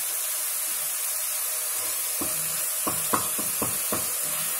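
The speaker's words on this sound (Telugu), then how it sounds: "అది కూడా ఈ కీమాతో కలిపి వేయించాలి." Ginger garlic paste fries with minced keema in a pan, a steady close sizzle under a run of sharp scraping stirs that grows busier toward the end.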